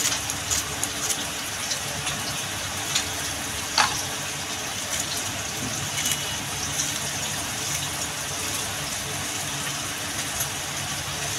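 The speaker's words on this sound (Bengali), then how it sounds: "মাছগুলো আমার ভাজা হয়ে গেছে" Fish frying in hot oil in a home kitchen: a steady, dense crackling sizzle that runs throughout at moderate level, with a few sharper pops and no talking.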